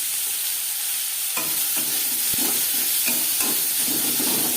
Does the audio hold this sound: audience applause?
no